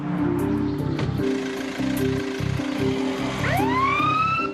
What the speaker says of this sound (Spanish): Una ambulancia y personal sanitario se desplazan al número 40 de la calle Imstrasse, la calle de Josef Fritzl.